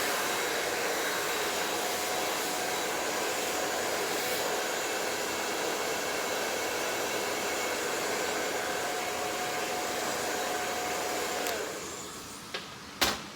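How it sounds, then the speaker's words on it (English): A hair dryer blows steadily while hair is brushed dry, a loud, constant close whoosh that cuts off near the end, followed by a couple of small clicks. "You're using this brush to dry the hair"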